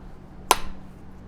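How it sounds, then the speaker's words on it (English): A single sharp crack of flint or glass struck while flintknapping, one bright ringing snap with a brief decaying tail over a quiet background hum. "I'll let you guys listen to the ambience of breaking glass"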